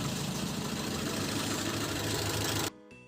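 A rebuilt Mazda 323 engine runs at idle on its first start, a steady close-up knocking chug that cuts off abruptly near the end, leaving quiet.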